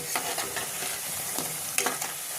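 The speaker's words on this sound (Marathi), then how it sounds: "हे वाटा भजे जे आहे ते व्यवस्थित असे तळून घेते" Green pea bhaji fritters deep frying in hot oil: a dense, even bubbling sizzle, close and steady, with a couple of brief scraping stirs.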